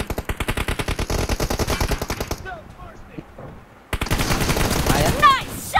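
Automatic M416 rifle fire in a video game: rapid bursts of loud shots with a steady rhythm, a brief pause, then more gunfire with ricochet-like whistles, and a voice speaking in between.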